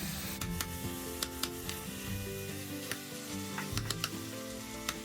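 Ground beef and ground pork sizzle and fry steadily in a pan for a Bolognese sauce, a continuous crackling hiss with occasional sharper pops and scraping clicks close by, with no talking.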